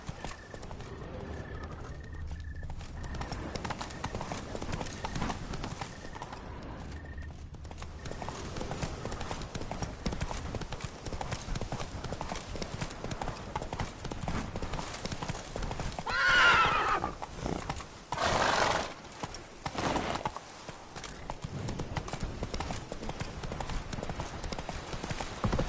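Roach, a horse in The Witcher 3 video game, gallops with steady rhythmic clip-clop hoofbeats under constant game ambience, with a couple of loud whinnies partway through.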